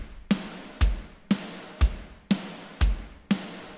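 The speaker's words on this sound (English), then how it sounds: "So now we have kick, snare, and it would sound like this." Programmed drum loop in Logic Pro alternating a deep kick and a sharp snare in a steady, even rhythm, seven crisp hits over a few seconds with no talking.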